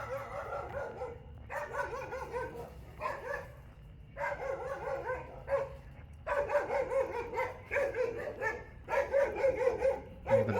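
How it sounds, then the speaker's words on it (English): A dog barks excitedly in repeated rapid bursts of sharp, yippy barks separated by short pauses, fairly close and loud, with no talking over it. "And the dog's going crazy."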